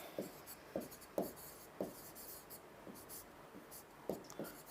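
Pen strokes scratch across paper as notes are written by hand, coming in short separate bursts with small pauses between them, close and quiet, with no talking.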